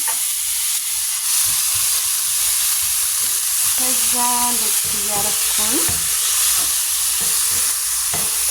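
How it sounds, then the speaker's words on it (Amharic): Onions fry in a pan while being stirred, giving a loud, constant sizzle with scraping stirs mixed in. A voice speaks briefly partway through. "ቢስሚላ ሽንኩርቴን አደረኩኝ መጥበሻ ላይ ማለት ነው።"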